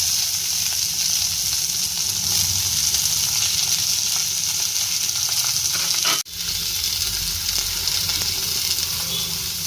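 Steady, loud sizzling of onions, green chillies and curry leaves frying in hot oil, continuous hiss throughout with a brief dip midway as something is stirred.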